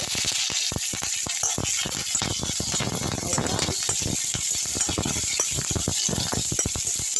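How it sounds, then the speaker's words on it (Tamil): Steady crackling sizzle of moringa leaves frying in hot oil, close and continuous, with a few sharp pops and crackles throughout. "இப்போ கருவேப்புகளுக்கு பதில் முருங்கைக்கீரையை போட்டு பொரிச்சிக்கலாம்"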